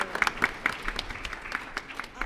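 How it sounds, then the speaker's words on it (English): Steady applause from an audience at a school board meeting, many hands clapping in a dense, continuous patter with no voices standing out. "Let's get one more round of applause for these wonderful artists."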